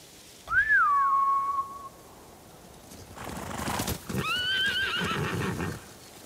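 A samurai's horse in Ghost of Tsushima whinnies loudly up close, then after a pause a second, longer neigh follows with some shuffling and hoof noise around it.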